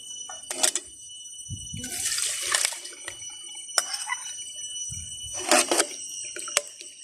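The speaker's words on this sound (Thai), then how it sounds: "ตักน้ำมาใส่ละลายเคย" Water is scooped in short splashy bursts and poured into a pot to dissolve fermented fish paste, with a few separate pours and dips between quiet moments.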